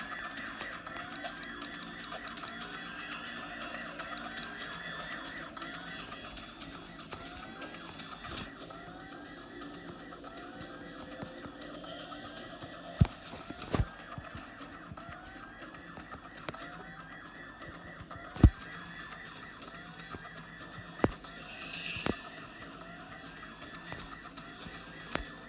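A repeating electronic alarm rings after being set off in a zombie-attack scene, its rising warble cycling steadily over a steady background, with several sharp knocks and bangs breaking in.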